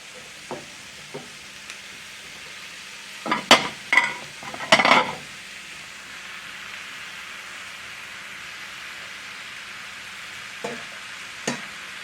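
Sausages in a frying pan, with a low steady sizzle under a few loud clattering bursts as they are stirred and moved about, then quieter taps near the end.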